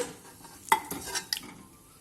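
Pork ribs dropped into hot oil in a pot for a potato and rib stew, giving a few sharp clattering hits and brief bursts of sizzle and scraping over a quiet background.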